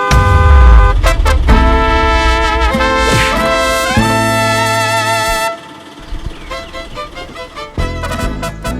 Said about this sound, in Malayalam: ചേട്ടൻ പറ്റില്ല, ഞാൻ ഹോൺ അടിക്കാം.